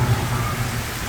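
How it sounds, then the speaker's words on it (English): Heavy rain pouring down hard in Barranquilla, a steady dense hiss of rain on surfaces holding level throughout, loud and continuous with low rumbling underneath and no voices. "the rain's coming down really, really hard"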